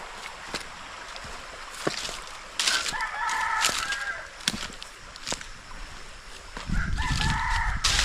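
A rooster crows loudly twice, up close, while chickens cluck intermittently and sharp clicks and knocks sound around them.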